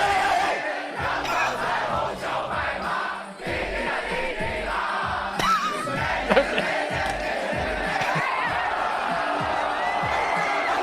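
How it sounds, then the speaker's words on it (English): A large crowd chants a word in unison, loud and continuous, with a steady rhythmic pulse of massed voices lasting throughout. "there was an entire crowd chanting the word"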